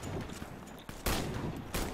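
Rapid bursts of sniper gunfire in the video game Warface, a dense crackling volley with two sharp, louder bursts near the end, with no talking.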